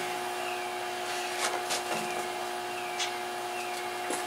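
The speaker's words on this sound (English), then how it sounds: "let your welder fan blow for a little while and cool it back down" A welder's cooling fan blowing after welding while the machine cools down, a steady close whirring hum with a constant tone, with a few faint knocks and rustles over it.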